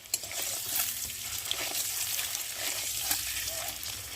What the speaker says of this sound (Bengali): একটু নাড়াচাড়া দিয়ে ভালো করে ডিমটাকে ভেজে নেব